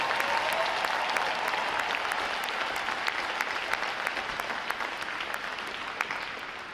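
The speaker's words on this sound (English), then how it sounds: "Round of applause for your support for your American sailor." Audience at a U.S. Navy boot camp graduation ceremony applauding, a sustained wash of many hands clapping across a large hall, steady then gradually easing, heard alone without speech.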